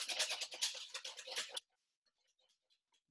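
A whisk beats clarified butter into a béarnaise sauce, brisk rapid scraping and tapping against the bowl for a second and a half, then faint scattered clinks.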